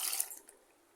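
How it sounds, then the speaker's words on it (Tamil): Water is poured into a jar to rinse out ground coconut paste while cooking a one-pot vegetable kuruma, giving a short splashing pour that fades quickly to near silence. "கொஞ்சம் தண்ணி ஊற்றி கழுவி இதையே ஊற்றிக்கோங்க"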